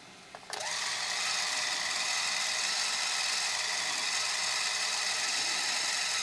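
A repaired Super 8 film camera motor starts with a click and brief catch, then whirs at an even, steady pitch, close and continuous to the end with no talk.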